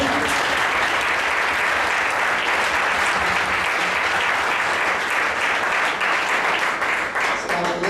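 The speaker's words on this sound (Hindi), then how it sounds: "तभी आपने ताली बजाई।" Loud, sustained applause from a church congregation at a Sunday worship meeting fills the whole stretch, dense and continuous without pause.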